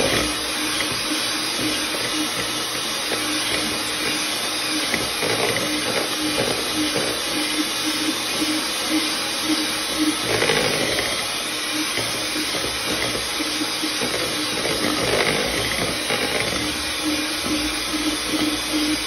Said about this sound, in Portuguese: E agora, a gente vai bater na batedeira, até ficar uma massinha bem uniforme.